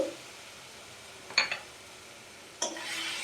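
Ginger paste and ground spices are stirred in a pan, with a few quiet scraping strokes of a spatula against the metal over a faint low sizzle.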